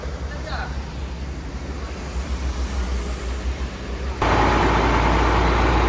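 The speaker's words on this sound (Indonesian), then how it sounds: "Mesin sudah menyala" A truck engine for hauling a Tadano 100-ton crane runs steadily after refuelling with diesel on the road to Dumai. It is a low continuous rumble that grows louder near the end.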